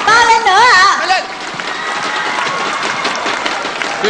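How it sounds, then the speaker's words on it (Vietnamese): Audience applause at the Zing Music Awards ceremony: a voice over a loudspeaker speaks briefly, then a large crowd claps loudly and continuously, filling the hall with dense, sustained applause. "cái giải âm nhạc mà quý vị vỗ tay như thế là không được"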